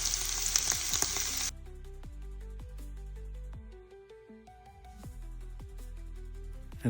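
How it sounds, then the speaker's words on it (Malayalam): Marinated prawns hit hot oil in a pan with a loud, hissing sizzle that settles after a second or two into a quieter, steady crackle with scattered pops, close by and without voices. "എണ്ണ പാനിൽ വെച്ച് ചൂടായിട്ടുണ്ട് ഒന്ന് ഫ്രൈ ചെയ്തെടുക്കുകയാണ്"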